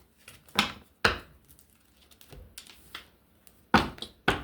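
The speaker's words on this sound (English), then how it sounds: "as I shuffle these decks" Sharp, dry clicks and riffling snaps of tarot or oracle decks being shuffled, in a few separate bursts with quiet gaps between.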